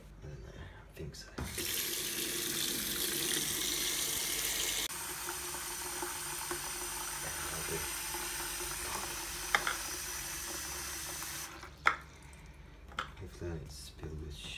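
A tap runs warm water into a bucket, a steady broadband rush that holds for about twelve seconds with a brief clank near the end, then stops.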